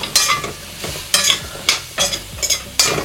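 Capsicum stir-fried in a pan for a paneer curry sizzles in repeated bursts as it is tossed, about seven rhythmic scrapes and sizzles over a few seconds, close and loud, with no speech.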